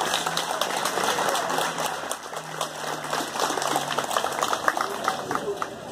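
Audience applause at a high school alumni and reunion gathering with a band present, a steady broadband patter of many hands filling the whole stretch, with faint voices and tonal hints of music underneath.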